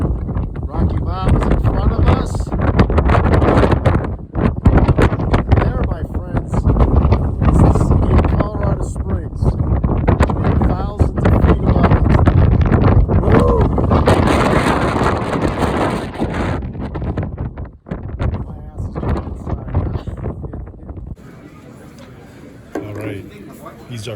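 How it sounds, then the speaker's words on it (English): Strong wind at the Pikes Peak summit buffeting the microphone with a loud, continuous roar and gusts, under someone talking, easing off in the last few seconds. "I brace myself against this wind"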